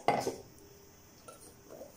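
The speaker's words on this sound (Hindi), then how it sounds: "एक बर्तन और स्ट्रेनर ले लिया टमाटो प्यूरी को जो इसके रेडी किया" Tomato puree is strained through a strainer into a kitchen vessel, heard as a clatter of metal utensils at the start, then a quiet stretch with soft scraping and small clinks.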